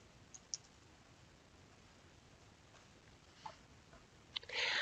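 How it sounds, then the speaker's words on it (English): A few faint, sharp mouse clicks are scattered across near-silence as someone clicks an on-screen information icon in drawing and animation software, with a slightly louder click cluster near the end. "So when I click on the information icon, I can have a title,"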